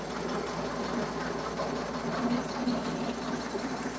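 Verti-drain aerator working a golf green: a steady mechanical engine drone with rapid rhythmic thumping as tines punch the turf, continuous and moderately close throughout.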